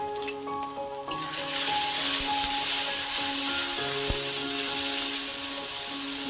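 Spices with ground turmeric and cumin paste frying in a hot pan while being stirred, a steady loud sizzle with a few scraping clicks at the start, close and continuous.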